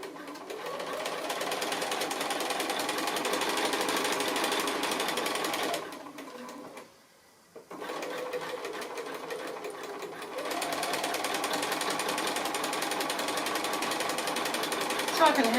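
A sewing machine runs steadily while chain piecing quilt blocks, with a continuous close mechanical whir that briefly stops and drops out around the middle before resuming.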